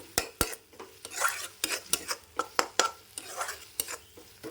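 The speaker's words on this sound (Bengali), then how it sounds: "ভালো করে কষাতে হবে যাতে আদা রসুনের যে কাঁচা গন্ধটা আছে সেটা যেন না থাকে" Ginger-garlic paste sautéing in a pan for dhaba-style egg curry, mostly sharp spatula clinks and scraping strokes against metal in an uneven rhythm, with a faint sizzle underneath, close.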